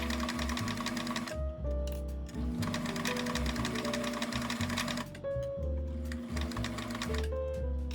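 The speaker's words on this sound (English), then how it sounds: "I have never used this overlock stitch on this machine before, and it feels so secure." A sewing machine runs an overlock stitch on a garter belt in fast, loud bursts of rapid mechanical clatter, pausing briefly between runs, close by with no talking.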